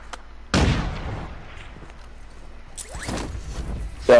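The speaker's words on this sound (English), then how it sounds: "That was a beautiful wall bang." Gunshots fired through a wall in a Rebirth Resurgence video game match: a loud, sharp crack, then a quick pair of shots a couple of seconds later and one more at the end, with faint background noise between them.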